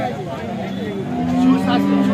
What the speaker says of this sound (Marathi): आपण पाहू शकता ही गाई